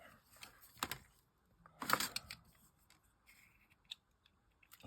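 A craft knife slices through card in a few short, sharp scraping strokes, the loudest burst near the middle, with light clicks and handling noise between them in a quiet room.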